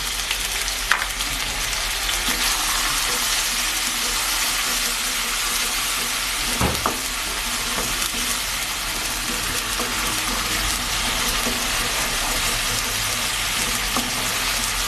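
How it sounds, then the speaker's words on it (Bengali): Chopped onion with ginger and garlic paste fries in oil in a pan for a prawn and potato curry, giving a steady, close sizzle and hiss throughout with a brief clatter midway. "পেঁয়াজ কুচো আদা রসুন বাটাটা ভালো করে ভাজা হয়ে গেলে তারপর অন্যান্য মশলাগুলো দিয়ে দেব"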